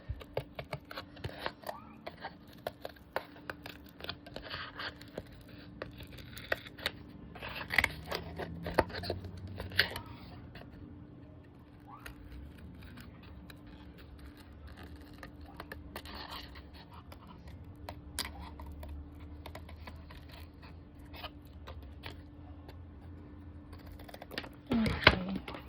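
Scissors cutting out a fabric piece while making gnome slippers, a long run of quiet, irregular snips and rustling handling noises up close, with pauses and a few louder clicks.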